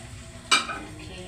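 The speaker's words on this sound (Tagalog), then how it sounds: "Ilagay na natin ang ating scrambled egg. Spread natin siya." Beaten scrambled egg goes into a hot pan with onion and tomatoes, giving a short sharp sizzle burst that fades into a low steady frying hiss.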